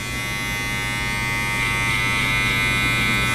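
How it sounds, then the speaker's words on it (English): Electric hair clippers buzzing continuously while cutting a light fade on curly hair, a steady close-up hum with no talk. "The more time you get cutting, the more comfortable you get"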